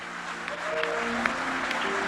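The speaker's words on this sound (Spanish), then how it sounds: "¿Cuánto aplauden a Cristo?" Church congregation applauding during a sermon, a continuous moderate patter of many hands at a distance with faint tonal sounds underneath.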